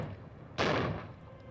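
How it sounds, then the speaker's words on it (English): Traditional gunners fire a cannon from castle ramparts high above Salzburg: one sudden, loud boom that rolls out into a long, fading rumble. "From the castle ramparts high above town, traditional gunners fire away"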